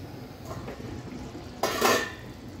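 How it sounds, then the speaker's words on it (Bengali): A spoon scrapes and clinks in a cooking pot of fish-head muri ghonto. There are a couple of soft stirs, then a louder metallic scrape near the end, close by and with no talking. "একটু নেড়ে চেড়ে দিচ্ছি"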